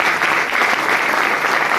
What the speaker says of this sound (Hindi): तो ताली बजाएं।